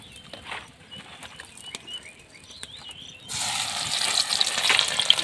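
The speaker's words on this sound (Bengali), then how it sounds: "এরপরে আমি পেঁয়াজটা দিয়ে দেবো" Onions go into hot oil with cardamom in a pan at an outdoor village picnic in a field. A quiet stretch with faint bird chirps gives way to a sudden, loud, steady sizzle.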